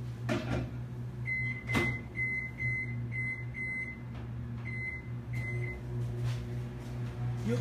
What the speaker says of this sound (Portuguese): E volto com ele pro micro-ondas por mais um minuto.